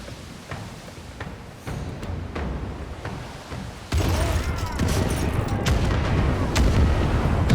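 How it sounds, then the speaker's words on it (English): Ship cannons fire a broadside in a video game: a dense run of booming blasts and crackling impacts that swells louder halfway through, rumbling continuously over a battle soundscape. "Fire the starboard cannons."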